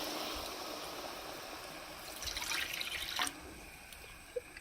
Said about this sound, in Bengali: এখন আমি ঝোলটা দিয়ে দেবো।